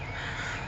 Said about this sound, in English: I'm getting attention from the birds.